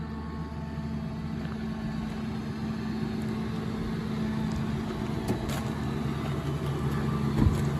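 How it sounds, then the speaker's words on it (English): The new V10 engine of a 2012 Ford F550 truck idles steadily under an open hood, a continuous low rumble with a faint rise in level toward the end and no talk. "Let's hear the motor running."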